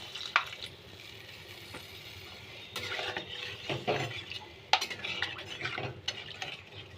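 Hot water is poured into frying fish curry masala for koi macher jhol, with oily spice paste stirring and sizzling in a pan, while bursts of bubbling hiss and utensil scrapes rise and fall close by.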